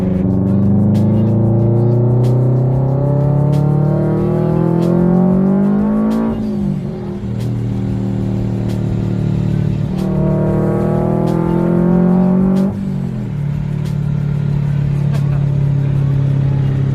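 A Scion FR-S with a Vortech supercharger and stick shift pulls hard and loud up close, its engine note climbing steadily through two gear changes with brief dips between them.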